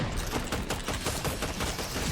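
Rapid gunfire from the Fortnite Zero Build mode, a dense stream of repeated shots crackling close and loud for the whole stretch, with no voices over it.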